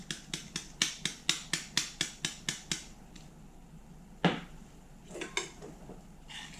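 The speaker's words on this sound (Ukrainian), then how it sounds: "Все гарно перемішаємо." A spoon knocks against a bowl while a red cabbage and meat salad seasoned with soy sauce, salt and black pepper is tossed: about a dozen quick, evenly spaced clinks, then a few scattered, looser knocks.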